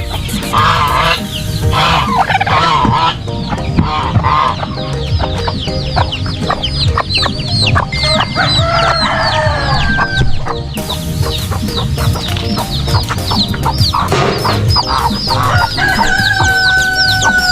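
Chickens cluck continuously in a busy farmyard with a brooding hen and ducks, mixed with goose honks and an occasional rooster crow, all close and loud.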